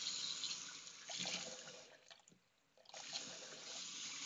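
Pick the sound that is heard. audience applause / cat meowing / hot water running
hot water running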